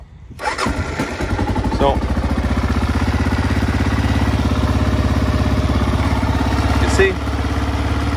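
A cold first-generation Kawasaki KLR 650 catches on choke after a brief crank, then settles into a loud, steady single-cylinder idle thumping close by, with someone speaking briefly at the start.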